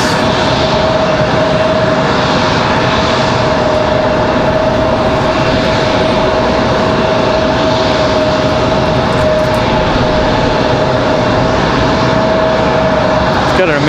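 An Alaska Airlines airliner taxis out at night at Raleigh-Durham International Airport, a loud, steady engine roar with a constant whine throughout, close by and unbroken.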